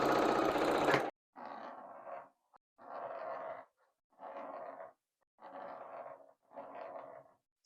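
A sewing machine stitches quilt pieces together. Five bursts of rapid whirring stitching are separated by short pauses, close and fairly soft, after an initial loud burst.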